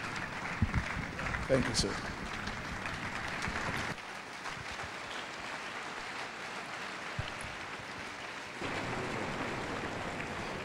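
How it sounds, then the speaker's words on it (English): Audience applause at a business seminar rises briefly and thins into a soft, distant patter, while someone speaks over the start and a low background rumble continues throughout. "A more resounding round of applause, ladies and gentlemen"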